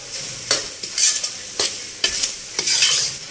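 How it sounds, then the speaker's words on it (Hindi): Crushed coconut roasting in a pan for desi panjiri, stirred in a steady rhythm: five or six scraping sweeps of the spatula over a soft dry sizzle, close and fairly loud, with no voices. "क्रश किया हुआ नारियल, ये भी इसी के साथ भुन जाए, इसका कच्चापन जो है ना दूर हो जाए।"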